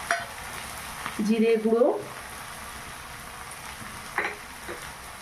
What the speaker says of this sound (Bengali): এইভাবে আমি কিছুক্ষণ ধরে এটা আমি ভেজে নেব নেড়ে চেড়ে।